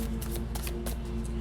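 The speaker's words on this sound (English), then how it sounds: "These cards are big, by the way, so they're a little bit harder to shuffle." Large tarot cards are shuffled in a rapid run of soft, papery riffling bursts over a steady low lawnmower hum in the background.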